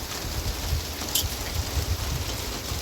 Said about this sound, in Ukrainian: Ось такі в нас дощі.